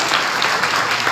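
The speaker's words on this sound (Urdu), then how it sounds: "زوردار تالیاں۔" Loud, dense applause from a church congregation fills the space steadily, a sustained wash of many hands clapping at once with no pauses.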